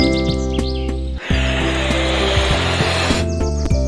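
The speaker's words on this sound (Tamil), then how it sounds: "தையல் இயந்திரம்" A sewing machine runs loudly and close, with a rapid mechanical clatter and a steady whirring burst lasting about two seconds in the middle, bracketed by rhythmic clicking.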